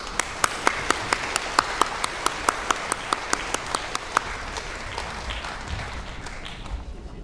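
Audience applause welcoming the Jincheng choir back onstage at a concert, with a steady crowd of clapping and sharp individual claps standing out rhythmically, then tapering off toward the end.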